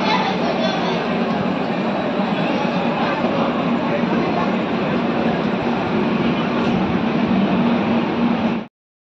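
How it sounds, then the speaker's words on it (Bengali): A delayed passenger train pulls out of platform 3 at Durgapur station on a journey from Howrah toward Gorakhpur, giving a steady, loud rumble of rolling wagons and wheel noise that continues unbroken, then cuts off abruptly. "নির্ধারিত টাইম থেকে 25 মিনিট দেরিতে দুর্গাপুর স্টেশনের 3 নম্বর প্ল্যাটফর্ম থেকে ছেড়ে দিল আমাদের ট্রেন।"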